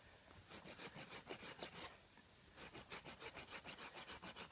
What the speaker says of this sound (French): il faut essayer de faire attention évidemment de ne pas râper là avec la lime